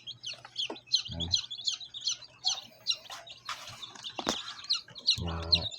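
Newly hatched baby chicks in a DIY incubator, peeping in quick, high, close bursts with short pauses between calls, along with a few soft low thumps.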